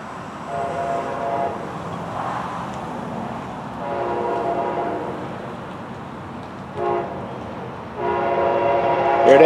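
A bright orange southbound revenue train rumbles past with a steady, rolling roar, swelling and fading in waves, with a brief horn-like tone near the end.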